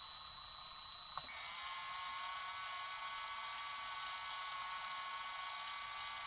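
Parkside PFBS 12 C7 12V cordless rotary tool spinning at about 2000 RPM, a steady high-pitched whine that starts after a brief click and holds evenly, close and alone.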